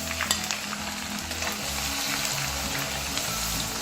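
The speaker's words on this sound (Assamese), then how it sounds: "এইখিনি ভালকৈ মই গৰম হ'বলৈ দিম, অলপ ভাজা হ'বলৈ দিম।" Ground onion paste and garlic paste frying in a pan for an Assamese jackfruit pickle, a steady close sizzle with stirring scrapes throughout, no talk.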